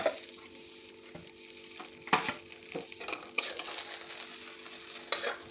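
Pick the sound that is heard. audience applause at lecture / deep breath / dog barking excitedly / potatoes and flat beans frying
potatoes and flat beans frying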